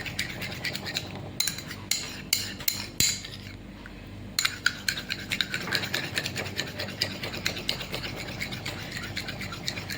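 Skin-brightening paste mixed in a bowl, a spoon or utensil scraping and tapping against the sides in a steady run of close scratches and clinks, with no talking.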